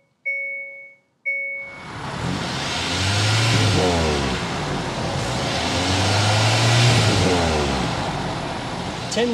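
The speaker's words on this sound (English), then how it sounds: "start it up so you can hear that exhaust bell" A 2024 Hyundai Tucson Hybrid N-Line starts after a couple of short chimes, then its engine and exhaust idle and swell in two rev rises, close and fairly loud.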